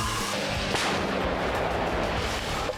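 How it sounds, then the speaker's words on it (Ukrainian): A loud, booming artillery blast with a sharp crack near the start, followed by a rumbling, sustained roar that fills the whole moment. "Постріл!"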